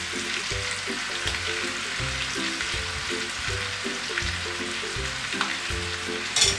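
Mutton and yogurt fry over high heat in a pot for Moradabadi yakhni pulao. The sizzle is steady and bubbling, with regular clanks of a spoon stirring and scraping the pot, and no talking.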